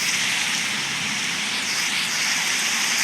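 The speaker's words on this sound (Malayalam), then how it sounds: "മഴ തുടങ്ങി ഗൈസ്" Steady, dense hiss of heavy rain pouring continuously, loud and unbroken throughout.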